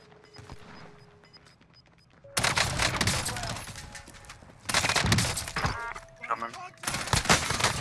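Sniper and rifle gunfire in the Warzone battle royale game, Rebirth map, loud bursts of shots and impacts erupting repeatedly after a quieter opening, with players talking over the fighting.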